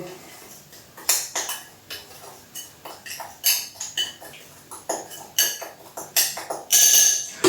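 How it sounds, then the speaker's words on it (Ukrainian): Raw meat being mixed by hand with spices for honey jerky, heard as irregular clinks and scrapes against a bowl, close and uneven, with some faint background noise. "Далі це все діло гарно добре перемішуємо з собою."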